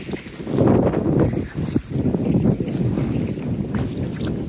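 A small boat pushes across choppy haor water in strong wind, with a continuous low rushing roar of hull, waves and wind buffeting that swells and dips throughout, close and loud, without talk.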